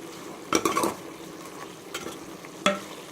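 Chicken biryani masala being stirred in a pot for Dindigul-style biryani, with a few clattering spoon-against-pot scrapes and bursts of soft sizzling, close and fairly quiet, no voices.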